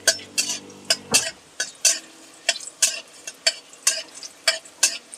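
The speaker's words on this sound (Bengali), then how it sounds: "হালকা করে একটু ভেজে" Tempering spices fry in a pan for a chickpea and green amaranth leaf dish, with a spoon stirring in steady scraping strokes about twice a second over a soft background sizzle, close and clear without speech.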